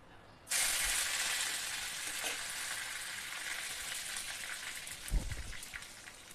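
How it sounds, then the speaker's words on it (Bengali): Mustard seeds, dried red chillies and curry leaves hit hot oil for a South Indian-style tempering, setting off a sudden loud, crackling sizzle that holds steady, with a thump near the end. "সাউথের যে কোনো খাবার সর্ষে শুকনো লঙ্কা কারি পাতা তো ফোড়ন হবেই"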